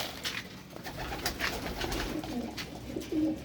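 Pigeons coo steadily in a breeder's loft of banded birds, mostly hens, with soft repeated low calls and bird chatter over a constant background hum, a louder coo rising near the end.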